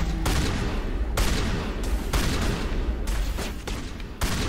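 Video game gunfire as a Mass Effect node is shot: several loud bursts of shots, each with a brief lull between, no talking.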